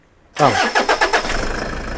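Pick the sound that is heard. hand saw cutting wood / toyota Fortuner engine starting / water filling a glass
toyota Fortuner engine starting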